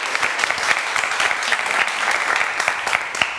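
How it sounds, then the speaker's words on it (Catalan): A studio audience at a school quiz show gives a strong round of applause for the Institut d'Argentona contestants, a bright, continuous clatter of many hands that stays level from start to end. "Un fort aplaudiment per ells."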